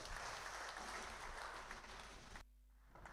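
A church congregation at a Kikuyu service claps in sustained, dense applause that holds steady and fairly distant for over two seconds before dropping off sharply, leaving faint room noise.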